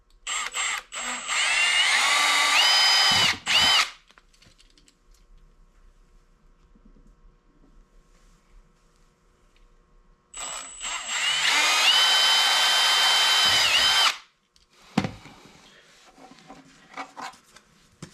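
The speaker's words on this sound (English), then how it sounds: "and then drill my holes through." A power drill bores holes through a heavy-duty track link plate for a NuCanoe Unlimited kayak mount. Two loud, high-pitched whining bursts of about three seconds each are separated by quiet, with a few handling clicks after.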